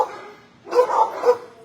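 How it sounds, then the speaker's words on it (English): A reddish brown dog at a shelter barks a few times close by, three loud, rough barks after a brief quieter whine. "Good looking reddish brown dog right here."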